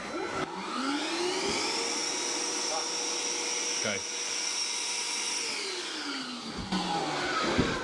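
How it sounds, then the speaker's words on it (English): Bosch cordless stick vacuum with a dust-collecting attachment, heard as a steady whine that rises in pitch as it starts, holds for several seconds, then winds down, fairly close, with a brief spoken word near the start. "we're going to use the cordless Hoover to show you the benefits of using it like this"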